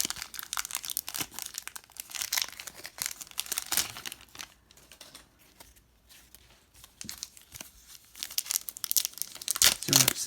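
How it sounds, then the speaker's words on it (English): 1991 Score Series 2 baseball card packs are torn open with crinkly wrapper rustling and tearing in uneven bursts, close to the microphone, fading briefly midway before louder crumpling, with some talk mixed in. "So you have to sit there and watch me open packs for a minute or two"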